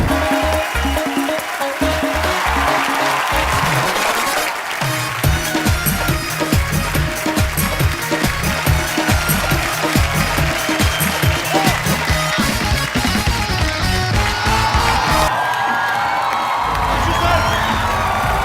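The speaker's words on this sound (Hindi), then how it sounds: "आप सबकी जोरदार तालियों के बीच मिस्टर आशुतोष गोवारिकर" A large crowd claps and cheers loudly and continuously, with whoops and shouts rising over the steady roar of applause.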